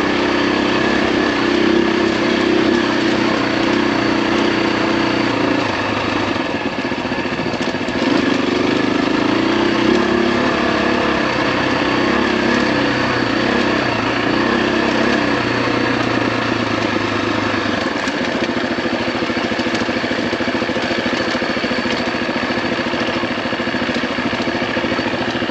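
A 2025 Husqvarna FE350S dirt bike engine running steadily on Trinity Mountain, a loud, continuous mid-pitched drone that holds fairly even throughout with slight shifts in tone.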